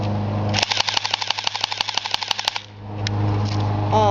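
A P30 airsoft pistol with blowback fires fully automatic: a rapid run of about twenty sharp, evenly spaced cracks over roughly two seconds, close and loud over a steady background hum, followed by quieter mechanical clicks.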